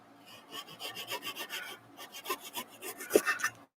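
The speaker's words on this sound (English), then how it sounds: "I can take the razor saw here and trim it" A fine-toothed razor saw trims a plastic model kit part in quick back-and-forth rasping strokes, close and crisp, in two runs of about seven or eight strokes separated by a short pause.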